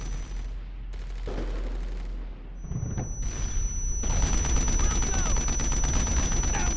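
Suppressing gunfire in the World War II video game Brothers in Arms, with bursts of rifle and machine-gun shots building into a continuous, loud volley near the end, broken by short gaps and heavy low booms.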